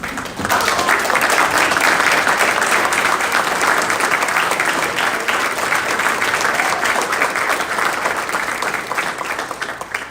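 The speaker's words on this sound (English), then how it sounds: "we'd like to give you a round of applause as well." Loud, sustained applause from an audience at an awards ceremony honoring animals for bravery, dense steady clapping for about ten seconds with no voices standing out.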